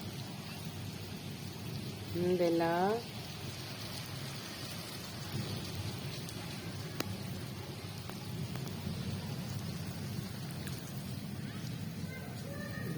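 Rain falls steadily as a soft, even hiss with a low rumble beneath it, heard from nearby. A brief animal-like call rises near the start, and a voice speaks faintly.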